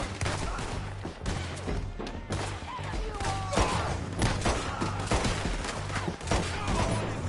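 Dense gunfire in the video game Red Dead Redemption 2, with sharp shots fired rapidly and continuously across the whole stretch and loud throughout, mixed with crackling fusillade noise and low rumbles.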